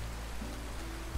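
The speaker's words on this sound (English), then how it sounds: "Let me find us a better soothing rain sound." Soothing rain falls in the Roblox game Lumber Tycoon 2, a steady broadband hiss with a constant low hum underneath and a soft thump at the end, with no voices.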